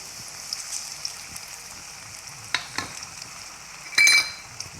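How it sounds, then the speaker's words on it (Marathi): Onion paste frying in hot homemade ghee for pav bhaji, with a soft steady sizzle, occasional scrapes of a spoon stirring, and a brief louder metallic clatter near the end. "आता आपण तूप तापलेलं आहे कांदा टाकून घेऊया"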